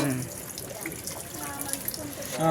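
Water poured from a container at a haldi ceremony, a splashing, running trickle mixed with nearby voices and crowd chatter, moderately close and fairly steady throughout.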